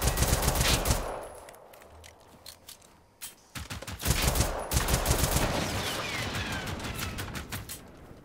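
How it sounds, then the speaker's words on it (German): Gunfire in the video game Generation Zero comes in rapid, loud bursts of shots that start the clip, pause briefly, then resume as sustained volleys with no talk. "Und ich kämpfe mich hier mit der Pistole rum."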